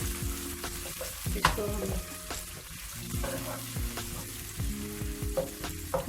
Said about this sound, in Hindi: अदरक, लहसुन और हरी मिर्च को 3 मिनट तक के लिए मैंने भूना है